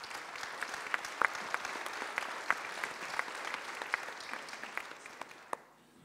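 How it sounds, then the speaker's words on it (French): An audience applauds at a French public event on illiteracy, steady dense clapping filling the room for about five seconds and then tapering off near the end. "On peut l'applaudir."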